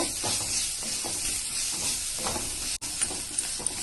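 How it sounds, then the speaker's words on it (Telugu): Washed flattened rice (poha) is stirred into a potato mixture in a hot pan, giving a steady close hiss and sizzle with soft scraping stir strokes and a few light clicks. "శుభ్రంగా కడిగి పెట్టుకున్న అటుకుల్ని వేసుకొని ఇందులో వేసుకుంటామండి. వేసుకొని బాగా కలుపుకుంటామండి."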